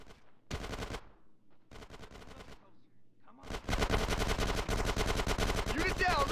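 Machine gun fire in GTA San Andreas, loud rapid automatic bursts separated by short silences, then one long continuous stream of shots near the end.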